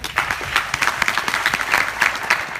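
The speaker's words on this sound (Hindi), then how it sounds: "इनके लिए जोरदार तालियां।" Audience at a 15th August business event for IMC breaking into loud, sustained applause, dense rapid clapping filling the hall for a few seconds without any speech.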